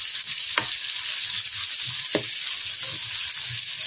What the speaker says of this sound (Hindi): और मैं ऐड करूँगी इसमें प्याज, ये 2 मीडियम साइज के प्याज हैं, इसको मैं गोल्डन ब्राउन करूँगी